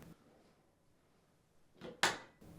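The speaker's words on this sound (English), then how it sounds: "Open and close the door a couple of times to ensure that everything is working properly." A Samsung dishwasher door is opened and shut in a quiet kitchen, with a soft shuffle followed by a sharp, fairly loud clack as it closes, then a brief rustle.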